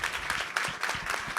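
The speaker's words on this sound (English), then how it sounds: "let's give a giant round of applause to the panelists" Audience applause for a panel of real estate speakers at a masterclass session, a dense, steady wash of clapping throughout the short stretch, moderately loud and close.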